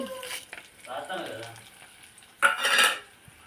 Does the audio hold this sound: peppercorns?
yes